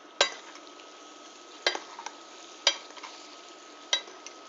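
Garlic noodles tossed in olive oil in a pan, giving a soft steady sizzle broken by several sharp clacks of utensils against the pan at irregular intervals, close by with no talking.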